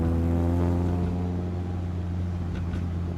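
Engine of a Chevrolet Spark burbling steadily while the small car drives slowly on a quiet road, a low droning exhaust tone with strong harmonic rumble held close and constant throughout.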